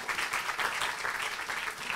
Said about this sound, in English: I think we will clap for that.